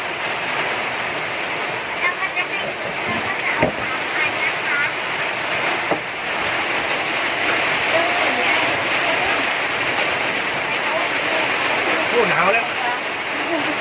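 Steady, dense rain hisses continuously, a loud broadband wash with occasional faint voices underneath.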